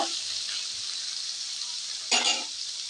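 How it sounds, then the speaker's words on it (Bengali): Onion, garlic and chopped tomato sizzle steadily in a hot pan, a continuous bright frying hiss with a louder burst of sizzling near the end, likely from stirring. "পেঁয়াজের সাথে রসুন আর টমেটো হালকা ভেজে নেব।"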